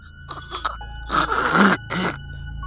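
A man groans in several strained, drawn-out bursts, close and fairly loud, with short pauses between them.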